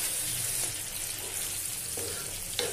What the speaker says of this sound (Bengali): এরপরে আমি এর মধ্যে ঢেলে দিচ্ছি পালং পেস্ট। ভালো করে নাড়িয়ে নিতে হবে